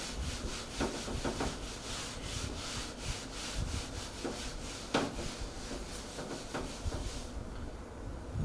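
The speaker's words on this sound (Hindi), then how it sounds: "तो मैं इसको मिटाता हूँ, यहाँ पे रब कर लेता हूँ इसको।" Writing erased from a board by rubbing: a steady, soft scrubbing rasp of repeated back-and-forth strokes at a moderate level, with no talking.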